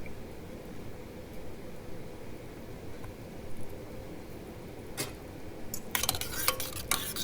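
Garlic and sherry wine being stirred into a pot with butter and onions for a Cajun shrimp boil: a soft steady simmering hiss with faint utensil scrapes, then a few sharper metallic clinks near the end.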